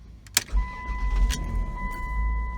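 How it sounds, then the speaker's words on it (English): A 1999 Dodge Grand Caravan minivan, fitted with a new ignition lock, is started with the key: a sharp click, a brief crank, then a low steady idle while a dashboard chime tone sounds, close and without talk. "Engine starts, stays on."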